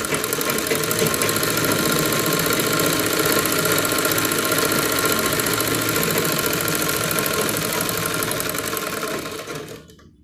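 A sewing machine stitches a neck design onto fabric, running in a steady fast mechanical rattle at close range for about nine seconds before stopping abruptly, with no talking over it.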